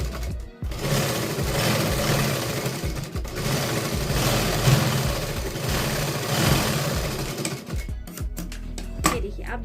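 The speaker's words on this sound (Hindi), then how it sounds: "तो यहाँ पर आपको एक सिलाई देनी है।" A sewing machine stitches a 42-size katori blouse, running in a steady, close whirring drone for most of the stretch before pausing near the end.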